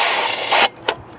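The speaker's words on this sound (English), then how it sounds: "we need a little bit of starting fluid" Aerosol starting fluid sprayed into an engine carburetor, a loud continuous hiss lasting about two-thirds of a second, then a short second burst, close by.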